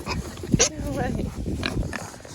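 Piglets in a pig pen grunt and squeal at close range, short oinks over a busy rustling background while a person talks.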